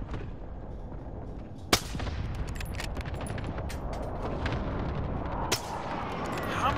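Two sharp gunshots from a video game ring out about four seconds apart, loud and crisp, over a steady bed of in-game ambient rumble and scattered clicks.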